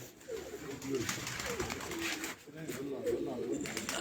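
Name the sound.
racing pigeon cooing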